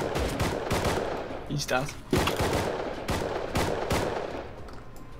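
Rapid gunfire in the survival video game Rust, with sharp shots in quick bursts and single cracks spread across the moment while a player talks briefly.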